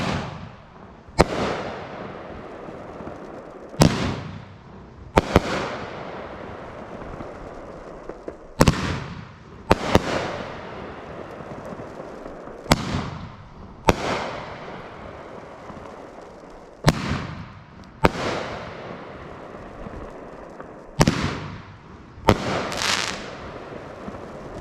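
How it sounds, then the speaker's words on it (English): A Widowmaker 200-gram firework cake by Firehawk Fireworks fires about a dozen loud, sharp shots spaced a second or two apart, each followed by crackling decay, with no talking. "let's go ahead and take a look at Widowmaker by Firehawk Fireworks"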